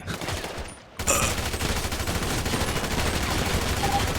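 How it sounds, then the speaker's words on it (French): Gunfire in a GTA V roleplay game: after a brief quiet lull, a sudden burst of rapid shots breaks out and continues as a dense, loud fusillade to the end. "Arrêtez les coups de feu, c'est bon."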